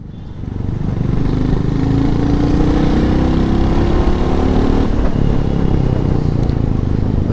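A Royal Enfield motorcycle cruises in third gear with a steady, loud engine drone and wind rush. The drone holds constant throughout with no gear changes, and there is no talk.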